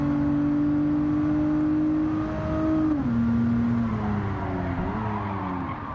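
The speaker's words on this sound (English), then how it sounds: "I love the sound of this thing too with the V6" A V6 car engine in the racing game Gran Turismo 7 drones steadily at high revs, its pitch easing down as it shifts and then climbing again, loud and alone with no talk.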